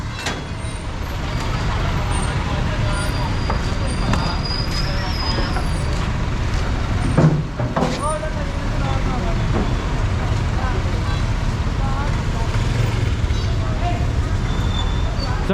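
Busy street traffic on Soler Street and T. Alonzo in Manila, with buses and cars idling and crawling past, a hiss of air brakes midway, and a constant loud roadway rumble under people talking.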